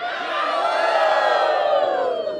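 A large crowd lining the Calgary Stampede parade route cheers and whoops in one sustained, loud swell that peaks in the middle and then slowly tapers off.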